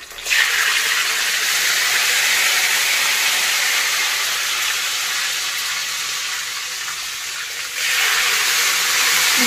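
Sopes filled with potato and beans browning in hot oil in a pan, giving a steady, loud sizzle and hiss that runs unbroken throughout, with no talk over it.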